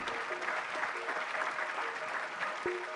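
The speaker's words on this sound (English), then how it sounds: "Can you have a big round of applause for all of them?" A steady round of applause from an audience, continuous clapping throughout with a brief sharp knock near the end.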